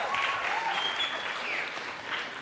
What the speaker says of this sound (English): Can we have another round of applause for the one and only Sanipe?